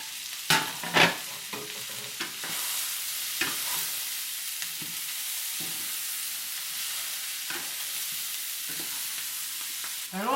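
Shrimp and onion stir-frying in a hot wok or pan, a loud steady sizzle with sharp bursts of tossing and spatula stirring throughout, no voices.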